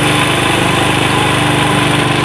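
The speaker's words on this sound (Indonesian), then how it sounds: "Kita tarik gasnya agak keras sedikit ya" A small engine with a flooding carburetor revving at high throttle, a loud, steady buzzing drone recorded up close with a rapid pulsing rattle underneath.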